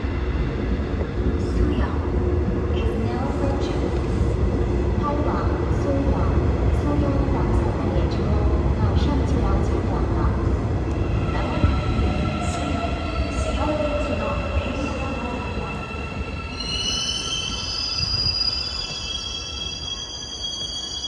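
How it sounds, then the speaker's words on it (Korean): A Busan Metro Line 3 Hyundai Rotem VVVF-IGBT train pulls into Daejeo station with steady loud rolling rumble and rising inverter whine, then squealing wheels as it slows, under a station announcement. "지금 수영, 수영행 열차가 들어오고 있습니다."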